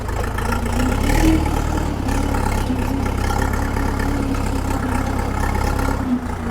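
A Kentavr 504F tractor's engine drones loud and steady close by as it pulls away in first gear, a deep low rumble with slight rises in revs.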